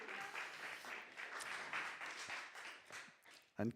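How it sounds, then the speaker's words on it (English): An audience applauds a poet at a poetry event held in a chapel, the steady clapping of a modest crowd filling the room for several seconds before tapering off, with a brief louder knock near the end. "Another round of applause,"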